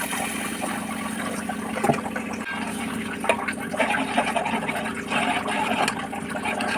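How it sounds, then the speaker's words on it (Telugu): Water pours steadily into a pot of cooking tomato rasam, a continuous mid-level splashing and gurgling wash that runs unbroken with no voices. "ఇప్పుడైతే వాటర్ అయితే పోస్తున్నాను ఇది బాగా మరగనివ్వాలి"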